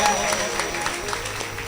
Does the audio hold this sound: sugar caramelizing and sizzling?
no